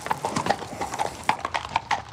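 Horses of the Republican Guard walk along the Bois de Boulogne, their hooves clip-clopping in an irregular close rhythm of sharp knocks, with faint voices in the background.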